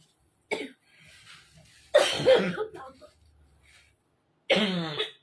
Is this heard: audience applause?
no